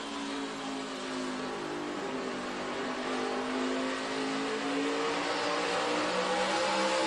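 NASCAR stock cars driven by Stewart and Menard race side by side in the 2011 Crown Royal 400, heard from onboard as a loud, continuous engine roar that climbs slightly in pitch as they accelerate.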